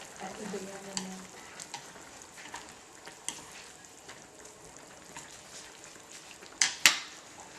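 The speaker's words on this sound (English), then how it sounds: "We just put the tofu in there." Tofu being added to a pot of Linhu soup, with soft stirring and faint sizzle, a few clinks of utensils against the pot and a sharper double clatter near the end, all fairly quiet.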